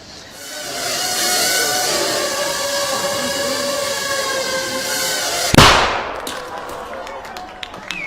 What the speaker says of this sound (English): That little bang is enough to penetrate the skull and destroy the contents.